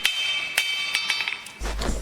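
Ball-peen hammer strikes on a wheelwright's anvil as a handle is squared up, about five sharp ringing metallic blows with lingering tones, close and fairly loud, ending in a denser clatter and rumble.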